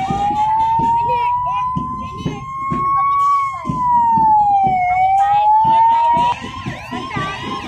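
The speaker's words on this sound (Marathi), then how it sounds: "प्रजासत्ताक दिनाच्या संचलनातील सगळ्यात शेवटचे वाहन आपण पाहतात सिडको अग्निशमन दल वॉटर ब्राउझर वाहन" A CIDCO fire brigade water bowser vehicle at a Republic Day parade in Kalamboli sounds a loud, nearby wailing siren. The tone rises and falls slowly over the whole stretch, with traffic and voices underneath.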